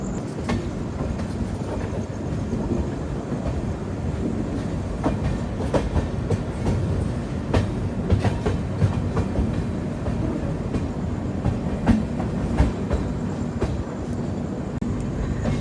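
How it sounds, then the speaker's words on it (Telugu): Humsafar Express passenger train under way, a steady loud rumble of wheels on rail with repeated clickety-clack joint beats and no talking. "హాంకింగ్ కొట్టారు, బయలుదేరింది బండి."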